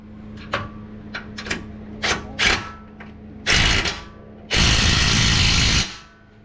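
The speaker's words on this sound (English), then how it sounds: "we can tighten those nuts down with an 18mm socket." A ratchet with an 18mm socket tightens the bumper nuts on a 2019-2023 Ford Ranger FX4: a few short, close clicking bursts give way to two longer ratcheting runs, with no talk.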